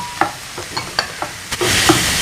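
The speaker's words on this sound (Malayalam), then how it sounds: "ഇളക്കിക്കൊണ്ടിരിക്കുക." Mushrooms sizzling in a pan for a Spanish omelette, with a handful of sharp spatula scrapes in a quick irregular rhythm over a soft sizzle that swells louder near the end.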